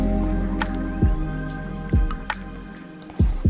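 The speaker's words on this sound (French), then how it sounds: "il faut que je boive sur ma gourde" Gulps of water drunk from a water bottle, three or four throaty swallows spaced about a second apart, close and fairly loud over a steady low background hum.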